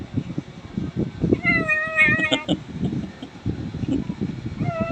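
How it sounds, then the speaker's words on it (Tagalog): White pet cat meowing angrily and hungrily, a few drawn-out close meows rising over steady background rustle and low noise, with a couple of quick cries in sequence and another meow near the end. "pusa akong alaga dito, kulay puti, oh. Oh, galit pa siya."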